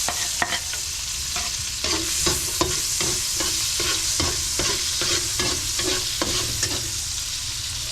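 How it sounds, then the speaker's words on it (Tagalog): Garlic sizzles and crackles steadily in a hot frying pan while a utensil stirs it in repeated scraping strokes, close and loud with no talking. "Igisa natin yung bawang."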